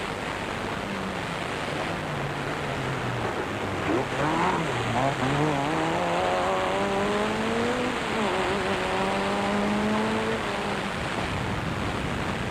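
A Nissan rally car on a 1994 mountain stage, its overworked engine losing power at altitude, drones steadily with rising and falling revs as the driver works through the gears, loud and close throughout.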